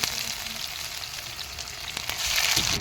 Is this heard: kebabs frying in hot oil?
yes